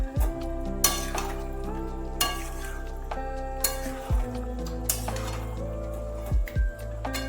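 Potato curry (aloo dum) being stirred in a pan, with a sustained low hum and background music-like tones, punctuated by several sharp clinks of a spoon against the pan at irregular intervals.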